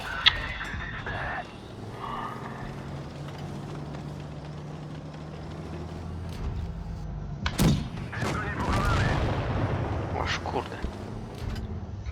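Tank cannon shots in a video game sound as a few heavy booms and thuds with a rumbling engine bed beneath, while someone talks over the game audio.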